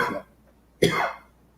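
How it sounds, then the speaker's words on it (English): A man coughs twice: a short, harsh cough, a pause, then a louder, rougher cough trailing off. He is recovering from a lingering illness, and the sound is close and otherwise quiet. "Sorry about this cough, folks"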